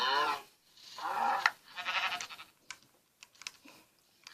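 Bleats of a sheep in the Minecraft video game, several short wavering calls close up in the first half, followed by scattered faint clicks like keyboard typing.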